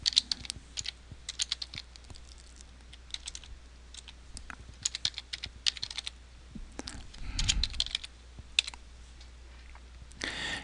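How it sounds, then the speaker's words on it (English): Fingers type on a computer keyboard in bursts of close, sharp key clicks at an uneven pace. A few short pauses break the typing and nobody speaks. "So I can type December."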